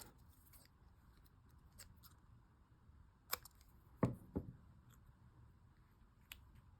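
A few quiet scissor snips through paper, with short crisp cuts near the middle and lighter clips spread around them, set against a faint room background.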